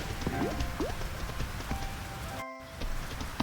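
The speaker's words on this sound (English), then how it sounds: "Don't let him out in the rain." Steady rain patters down in the farming game Fields of Mistria, a soft continuous hiss broken by a few faint sliding tones and brief tonal blips.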